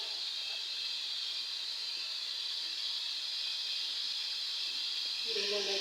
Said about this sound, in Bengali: এক সাইডে আমি ভাজি বসাইছি, আর এক সাইডে তরকারির মশলা কষাইতেছি